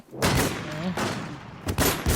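Gunfire in the online shooter Infestation The NewZ comes as dense, loud, rapid bursts close by, with a brief lull before a final volley.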